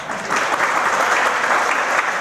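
An audience at a temple entrance ceremony in Indore applauds, a dense, even wash of many hands clapping at once that holds steady throughout.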